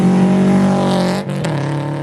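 A stanced car with a new exhaust drives past, its steady droning engine note holding loud and close before dipping and shifting as it goes by.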